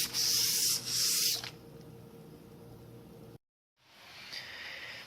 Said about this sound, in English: You don't want to be too rough to sand down the barrel where you'll be damaging it, but very, very light grade sandpaper.